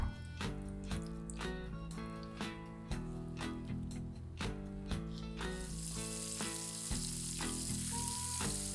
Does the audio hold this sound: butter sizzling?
yes